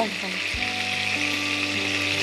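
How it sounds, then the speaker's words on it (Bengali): Prawns sauté lightly in oil for a Bengali prawn dish, giving a strong, continuous close sizzle while a low steady tone hums underneath. "একদম হালকা করে জাস্ট একটু সটে করে নিলে"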